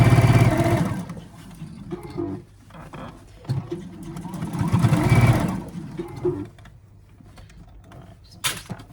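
A sewing machine stitches an Easter bag seam in short uneven bursts with pauses between them, fairly close and moderately loud, with soft handling noises in the gaps.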